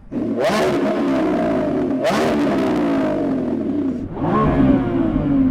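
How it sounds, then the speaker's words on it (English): Lamborghini Revuelto engine revving hard in three rising bursts, each climbing in pitch then dropping back, loud and close with a steady idle rumble between blips and a final deeper surge at the end. "So I'm going to rev up this Lambo."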